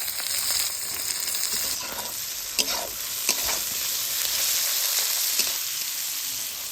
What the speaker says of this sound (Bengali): তেল গরম হয়ে গেলে দিদিমা হচ্ছে পেঁয়াজ কুচি